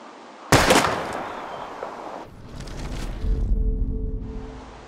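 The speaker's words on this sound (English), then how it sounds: "We're gonna shoot all these bottles without wasting a single bullet." Gunshot fired at bottles in the Life Is Strange game: one loud sharp crack with a short decaying tail, then quieter rumbling game ambience and a faint steady tone.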